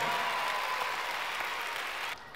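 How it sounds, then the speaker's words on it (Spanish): Loud, steady applause from a crowd at an award ceremony during a road safety week event, continuous clapping that cuts off abruptly near the end. "¡Fuerte aplauso!"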